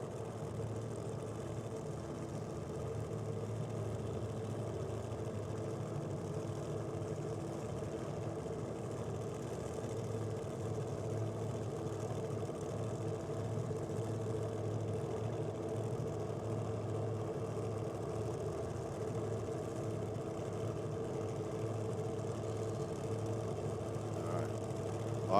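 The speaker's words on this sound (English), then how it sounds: "Proline power plant in the Mustang. And the Hemi" Two drag racing cars, a Mustang with a Proline power plant and a Hemi-powered Chevelle, idle at Sydney Dragway, a steady low engine rumble held at a constant level throughout without voices.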